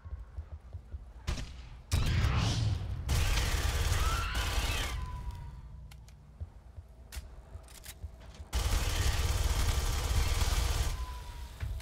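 Gunfire rings out in the sci-fi shooter game Aliens: Colonial Marines, including squad companions' covering fire. Loud bursts of shooting come in blocks, separated by quieter stretches of game ambience, with no talking.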